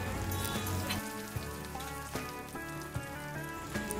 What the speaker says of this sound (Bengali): এবার দিয়ে দেব ঝিঙেগুলো সুন্দর করে আস্তে আস্তে ভেজে নেব।